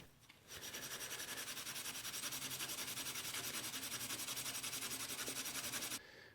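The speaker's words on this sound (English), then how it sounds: "then what we'll do is we'll hit it with a Scotch-Brite pad" A Scotch-Brite pad scrubbing mill scale off steel, a fast, even rhythmic rasping held steadily for about five seconds, close and fairly quiet with no talk.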